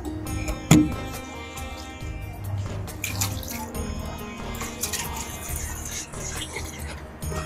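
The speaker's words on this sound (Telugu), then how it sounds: "కడిగి నానబెడదాం." Basmati rice being rinsed in water at a kitchen sink for vegetable biryani, with running tap water, steady splashing and swishing, and a sharp knock near the start, close and fairly loud with no talking.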